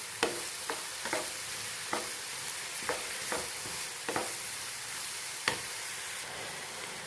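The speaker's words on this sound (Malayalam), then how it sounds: "ഇനി ഇതിലേക്ക് ആവശ്യത്തിനുള്ള ഉപ്പും കൂടി ഇട്ട് നല്ലതുപോലെ ഒന്ന് വഴറ്റിയെടുക്കാം" Onion masala with salt sautéed in a pan for a Kerala-style egg pepper roast, a continuous soft sizzle broken by irregular scraping stirs of a spoon, close up and without talk.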